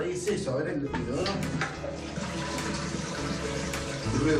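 Water rushes and gurgles as a toilet flushes nearby, steady throughout, with muffled voices in the background speaking Polish.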